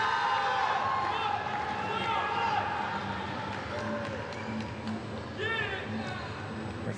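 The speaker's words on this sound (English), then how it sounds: "Her family cheering her on there." A family cheers a gymnast at a vault event final at the world championships, lively crowd noise and shouts in a large arena beneath a commentator's voice.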